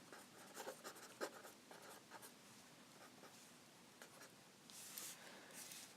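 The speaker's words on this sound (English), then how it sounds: "let me just write Manslaughter right here" Pen writing on paper, with scratchy strokes in irregular bursts, some brief quiet gaps and a brighter, harsher stretch near the end, close and fairly soft with no talking.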